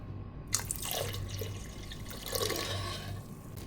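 Water poured into a pot of karkidaka kanji, a medicinal Kerala rice porridge, giving a steady, close liquid splash and trickle that runs alone for a few seconds.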